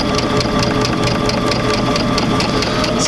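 A sewing machine stitches steadily at close range, its motor humming loud and continuous with a fast, even rhythm of needle clicks throughout.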